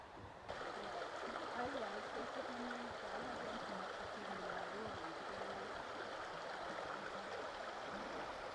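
Steady broadband rush of a flowing stream fills the clip, with a low voice murmuring intermittently underneath.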